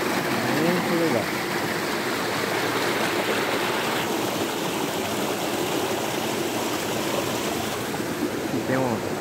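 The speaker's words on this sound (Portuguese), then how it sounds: "Essa cachoeira aqui no meio da mata." A forest waterfall and stream produce a steady, loud rush of flowing water that fills the whole scene, with brief faint bird-like chirps above it.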